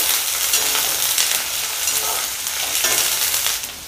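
Sliced onion and cardamom sautéing in a pan for a mutton fry, a loud, steady sizzle with a scraping stir rising and falling through it, close up and without any voices.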